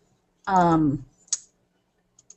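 A computer mouse clicks on a web link: a short vocal sound comes first, then a crisp single click, followed a moment later by a quick cluster of small, faint clicks in an otherwise quiet room.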